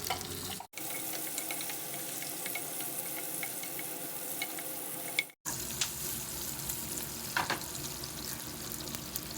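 Onion pieces with a pinch of turmeric frying in a spoonful of hot oil for paneer butter masala, giving a steady close sizzle with faint stirring scrapes; the sound cuts out briefly twice and then resumes, with no talk.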